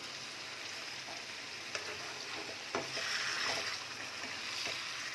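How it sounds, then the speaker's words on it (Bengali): Chicken chaap pieces frying in a pan, a soft continuous sizzle with occasional faint clicks and turning noises, quiet and fairly distant with no talking. "এপিট ওপিট করে একটু লাল করে এটাকে একটু ফ্রাই করে নেব।"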